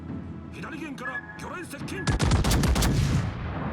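Warship guns fire in a naval video game, a Tier 9 Adatara, a dense burst of loud booming shots that grows heavier midway and rolls on in overlapping blasts, with some voice in the mix.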